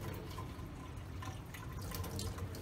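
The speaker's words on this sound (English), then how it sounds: "push down because you want to get all that extra water out" Water is pressed out of soaked grain for kibbeh in a strainer, giving a steady, close trickle and splatter of liquid draining that runs without pause.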